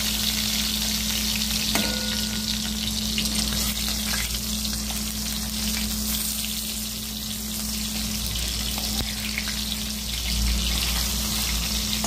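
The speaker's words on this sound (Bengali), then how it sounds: "বেগুনগুলো ভাজা হয়ে গেল।" Eggplant pieces frying in a pan, a steady close sizzle and crackle of oil running unbroken throughout with a low background hum.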